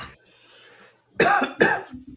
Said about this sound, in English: the cough lingering there